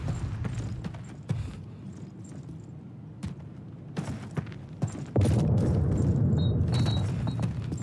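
A grenade blast in the World War II shooter Call of Duty 2, a sudden loud burst about two-thirds through followed by sustained rumbling noise, after scattered quieter game clatter.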